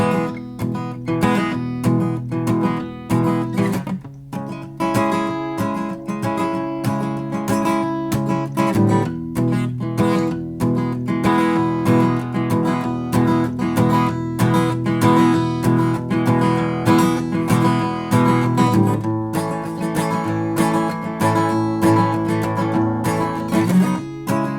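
Acoustic guitar strummed through the chord progression of a song, a steady, even rhythm that stays full and close for the whole passage, played alone with no voice.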